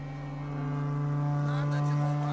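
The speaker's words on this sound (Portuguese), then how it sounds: "Comecem quando eu tocar a corneta." A horn blown to start a contest in The Witcher 3 sounds as one long, steady, deep tone that swells and holds throughout, with faint background voices and game ambience beneath it.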